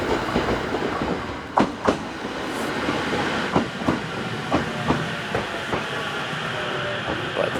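A train rolls past at a station, a continuous rushing rumble and hiss broken by repeated rhythmic clacks of wheels over rail joints, fairly close and sustained throughout.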